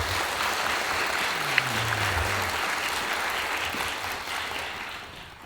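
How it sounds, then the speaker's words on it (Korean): Sustained audience applause in an indoor academic symposium hall welcoming three panel speakers, a dense, steady clapping wash that holds for several seconds before tapering off, with a faint low tone sweeping underneath. "큰 박수로 맞이해 주시기 바랍니다"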